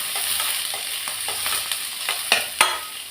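Chopped onions, green chili and curry leaves sauté in a hot pan, giving a steady sizzle broken by several sharp scraping stirs of a spoon, two louder strokes near the end, with no talking.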